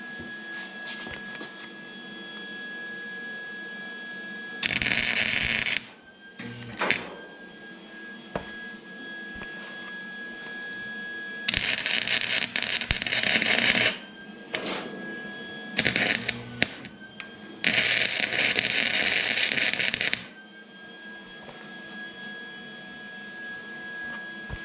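Welding tacks on a 1940s Chevy trailer while fitting bed boards, several loud harsh crackling bursts of a few seconds each, separated by quieter hum and a steady whine.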